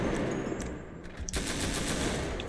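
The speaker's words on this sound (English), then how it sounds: "The MG, combat MG." Combat MG machine gun from a FiveM game soundpack firing in long rapid automatic bursts, with a brief lull before a dense, loud, continuous stream of shots resumes.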